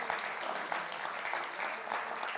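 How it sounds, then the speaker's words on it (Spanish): A church congregation claps steadily for first-time visitors, a continuous wash of many hands applauding at moderate volume in a large room. "Le damos un aplauso a esas personas"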